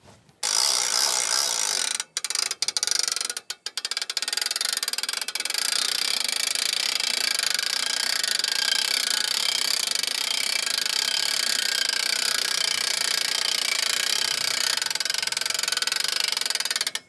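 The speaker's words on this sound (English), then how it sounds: "Around the front, we'll winch this one over." A hand winch cranked on a 2018 Austrack Telegraph X camper trailer, giving a dense, continuous mechanical ratcheting whir that runs loud and steady after a few stop-start turns.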